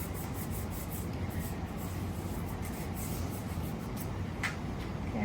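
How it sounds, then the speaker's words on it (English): Hands rub together with hand sanitizer in a steady, close, soft swishing friction that continues unbroken throughout, without speech. "I'll rub my hands together until"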